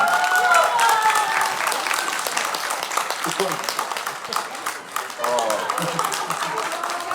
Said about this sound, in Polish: Teraz prosimy o wielkie brawa dla, dla tych pięknych dziewczynek.